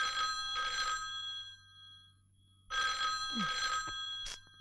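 An old public telephone bell rings in two bursts separated by a short pause, with a faint hum underneath and a brief click at the end.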